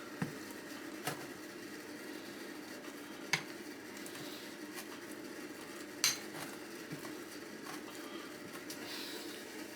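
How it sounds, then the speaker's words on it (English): Henna paste is stirred with apple cider vinegar in a bowl, soft wet mixing sounds punctuated by a few sharp clinks of the utensil against the bowl, quiet and close, with no speech. "I'm continuing to mix this. I did have to add more apple cider vinegar to it"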